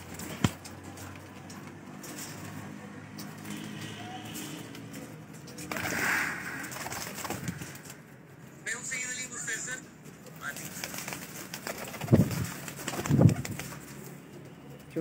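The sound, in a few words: pigeons cooing on a rooftop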